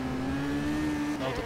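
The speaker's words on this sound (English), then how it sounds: "We've got the leader coming through us right now. Yeah, it's overtaking on the right." A race car in a racing game overtakes on the right, its engine giving a loud, steady high drone that holds for over a second, then shifts pitch as the car pulls past.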